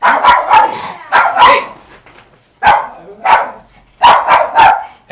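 A dog barks loudly and close by in three clustered bursts of sharp, repeated barks, with short quiet gaps between the bursts.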